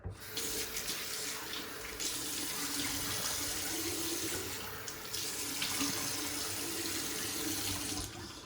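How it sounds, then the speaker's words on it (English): Tap water runs steadily into a bathroom sink as a face is wetted before a shave with tallow soap lather, a continuous close splashing stream with brief shifts in flow and no talking. "I'm going to wet my face"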